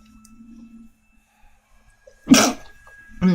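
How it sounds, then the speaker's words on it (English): One sharp, close sneeze bursts out of near silence, and a person starts talking a moment later. "Sneezes."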